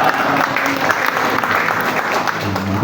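An audience applauds at a village gathering in Ngawi held by customs officials campaigning against illegal cigarettes: dense, steady clapping that fills the space from start to finish, with no talking over it.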